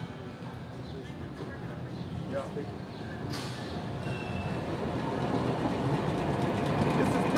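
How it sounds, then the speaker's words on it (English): A train rumbles past nearby, its low, steady roar building in loudness over several seconds while a person speaks briefly over it. "Watch yourself, train right there."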